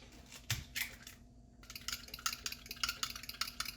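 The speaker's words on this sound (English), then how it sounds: "I'm just blending the egg and that in there" An egg is blended by hand into cake batter in a bowl, giving a run of quick, close scraping and clicking strokes after a brief pause, with no talking.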